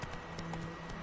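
A horse's hooves clip-clop in The Witcher 3, a short run of soft, evenly spaced steps under faint ambient game sound.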